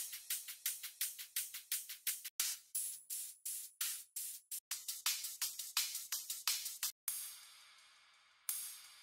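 Another layer of a panned drum top loop for melodic drum and bass, built in FL Studio: a fast run of crisp, bright hits in steady rhythm that thins out near the end into a sustained noisy wash with one last accent.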